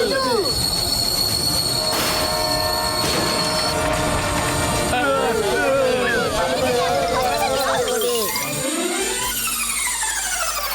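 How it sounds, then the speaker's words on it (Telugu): A cartoon train brakes hard to a stop, its wheels squealing in long shrill wavering tones over a loud rumbling carriage roar that fades out near the end. "ట్రైన్ ఆగిపోయింది"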